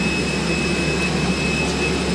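Steady airplane jet engine roar heard from inside the cabin, a continuous broadband drone with a constant high whine, unchanging across the short span.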